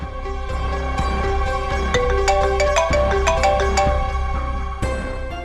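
A phone rings with an electronic melodic ringtone for an incoming call, a repeating tune of bright tones that plays loud and clear without any talking.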